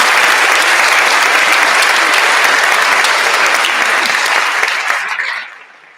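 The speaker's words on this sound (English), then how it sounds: "why don't we have a round of applause for our litigants?" An audience in a Supreme Court hearing room applauds the two litigants: loud, dense, sustained clapping that holds steady for about five seconds, then tapers off quickly and stops.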